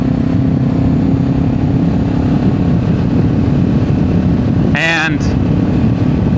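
A Kawasaki Z500 motorcycle cruising at about 40 mph in fourth gear around 4,500 RPM, giving a loud, steady engine drone with wind rush that stays constant throughout, with a brief voice partway through.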